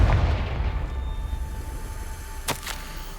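A Confringo spell explosion in the video game Hogwarts Legacy: a deep booming blast at the start that rumbles and fades, followed by a couple of sharp crackling pops later, with no speech.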